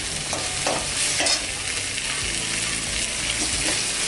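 Ginger and garlic fry in oil in a pan for a South Indian vada curry, sizzling steadily. A spoon stirs them with repeated scraping and clattering right up close, and no voices are heard.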